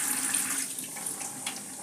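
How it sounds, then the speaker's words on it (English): Hot water is poured over cooked spaghetti, making a continuous close splashing and gushing flow, steady throughout. "So I poured again the water, the hot water, to the spaghetti"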